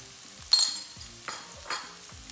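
Shallots fry in hot oil over a high flame, giving a soft steady sizzle with a few louder bursts of stirring and spattering. No one speaks.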